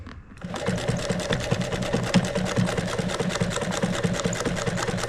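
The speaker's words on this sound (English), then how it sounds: "I got the Juki singing Diamond Tuck and Roll stitching tunes before it was over with" A Juki sewing machine stitches diamond tuck and roll upholstery for a 1934 Ford coupe's seats, starting up and then running at a fast, even, rhythmic thump close by without pause.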